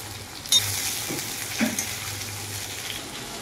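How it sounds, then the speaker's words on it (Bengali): Potato, papaya, green banana, drumsticks and sweet potato fry in oil with a continuous soft sizzle, broken by a couple of clinks and stirring scrapes. "এবার হচ্ছে এই সবজিগুলো সব এবার ভাজা হবে।"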